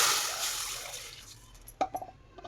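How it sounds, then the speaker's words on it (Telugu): Water poured into a cooking pot of roasted vermicelli for semiya kesari, a broad rushing stream that tapers off, followed by a few sharp drips and clinks near the end. "ఒక గ్లాసు సేమియాకి రెండు గ్లాసులు నీళ్ళు తీసుకో"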